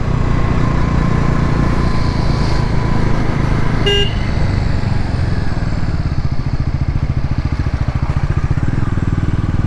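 A Bajaj Pulsar NS400Z 400cc motorcycle being ridden through city traffic, its engine droning steadily and loud up close, with a brief horn toot partway through.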